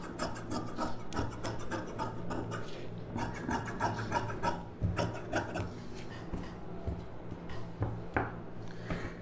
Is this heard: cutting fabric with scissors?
yes